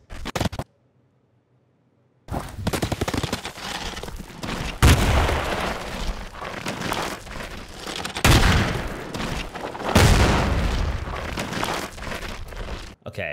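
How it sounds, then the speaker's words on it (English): Bomb blasts and explosive booms layered into an action scene sound mix, arriving as loud, dense bursts with rumbling low end after a brief silent gap, with sharp surges near the middle and later. "Okay, and so those are the bomb sound effects."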